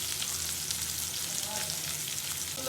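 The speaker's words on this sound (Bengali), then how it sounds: "এবার আমি সবজিগুলো দিয়ে দিচ্ছি ভাজার জন্য।" Potato, pointed gourd and sponge gourd pieces frying in heated oil, a dense, even sizzle heard close and continuous throughout.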